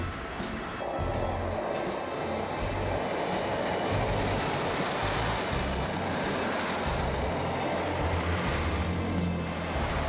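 A new train in from the Manchester line passes through a station under construction, a steady close rumble with low wheel and engine tones and faint rail clatter running the full length.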